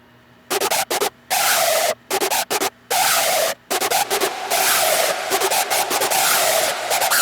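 A harsh synthesized hardstyle screech, dry and without reverb, made in FL Studio, fires in choppy rhythmic bursts with gaps before settling into a longer sustained, noisy scream.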